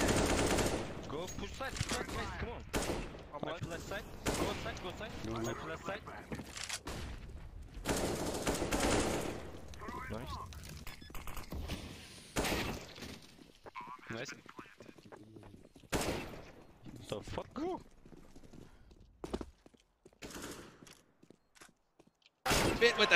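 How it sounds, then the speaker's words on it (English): Gunfire from the video game CS:GO: dense, close bursts of rifle shots and rapid fire come in clusters, with a commentator talking excitedly over much of it. "Bit with the second shot connects"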